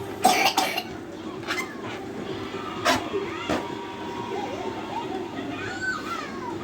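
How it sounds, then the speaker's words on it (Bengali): A child with a cold coughs in a burst of rapid coughs near the start, then coughs a few more times at intervals while someone talks nearby in a home. "কত কাশি!"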